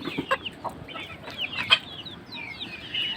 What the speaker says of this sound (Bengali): এটা আমার খুব শখের একটা মোরগ।